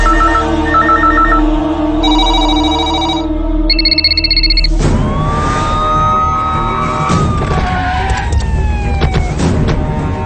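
A telephone rings in a tense Telugu film scene about a call to the central home minister. Distinct electronic ring tones repeat for about four seconds, then give way to loud dramatic music.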